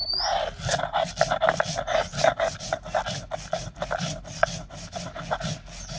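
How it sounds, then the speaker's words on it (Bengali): Mustard seeds ground by hand on a stone, a close, rhythmic rasping scrape repeating steadily back and forth, with no talking. "এখন বাটবে সরিষা"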